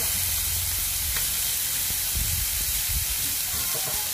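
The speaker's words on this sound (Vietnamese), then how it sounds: "Mình sẽ cho khóm cho mình xào trước nha các bạn xào khóm cho nó chín ha" Pineapple stir-frying in hot oil with golden garlic gives off a steady, close sizzle and hiss, with a few stirring scrapes and no one talking.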